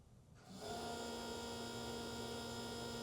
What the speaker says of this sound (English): sound you're hearing is the furnace kicking on.